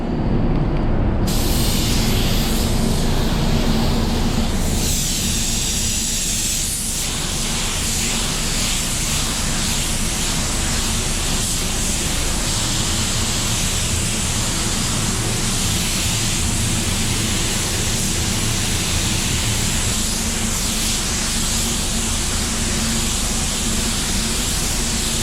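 A spray gun hisses continuously and loudly up close, a dense airy rush of paint spraying onto a car that shifts slightly in tone but never stops.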